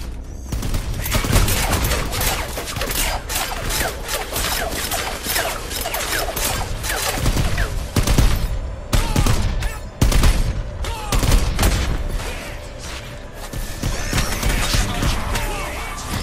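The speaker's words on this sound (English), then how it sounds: "I gotta stagger my my attacks on those machine gun turrets." Machine gun turrets in the Strider video game fire dense, continuous rapid bursts with metallic clatter, loud and close, sustained for many seconds with brief lulls.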